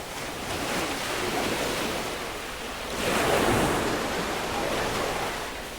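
Sea waves surging ashore with strong wind buffeting the microphone during a storm warning, a continuous roar that swells into a louder crash midway, with no voices over it.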